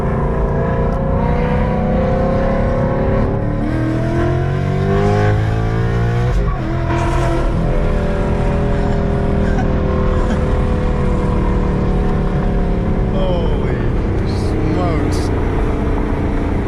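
A loud Mustang GT V8 with catless longtube headers and Corsa Extreme catback exhaust revs and roars up and down, with sharp exhaust crackles and pops scattered through; steady and close.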